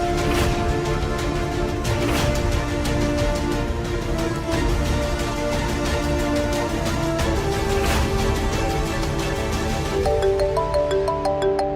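A phone ringtone plays a looping electronic melody, fairly loud and continuous for several repetitions, signalling a repeated incoming call.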